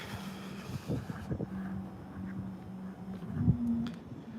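A passing vehicle's engine on a city street gives a steady low hum that swells and fades over a few seconds, with some wind noise and faint background sounds.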